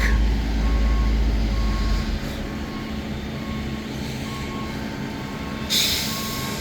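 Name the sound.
asphalt paving truck reversing with beeps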